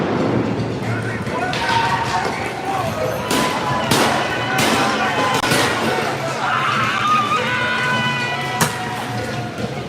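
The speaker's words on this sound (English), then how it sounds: "You can hear the gunfire of the federal agents." Gunfire from federal agents in downtown Portland: sharp bangs and pops go off repeatedly over a noisy, crowded street scene, with people shouting and talking throughout.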